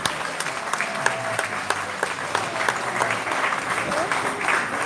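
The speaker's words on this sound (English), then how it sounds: "Could you give them another round of applause" An audience at a pre-K school leaving exercise applauds the graduates, with a dense run of close claps rising and thinning over several seconds and voices murmuring underneath.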